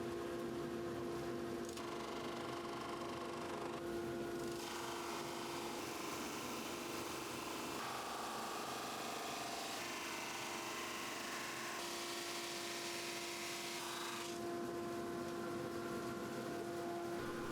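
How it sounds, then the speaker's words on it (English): A drum sander runs steadily as a wooden keyboard case rides through on a sled with a stop block behind it, a continuous mechanical whir with shifting texture as the workpiece passes, alone at moderate distance. "I've also put a block on here just to stop it getting pushed back as it goes through the drum sander"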